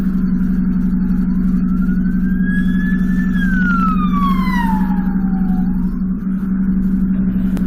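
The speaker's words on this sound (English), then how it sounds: "Here comes police car 1." Police car siren wailing as it passes along a motorway, a sweeping tone that rises and falls, heard over the steady low drone of a vehicle's engine.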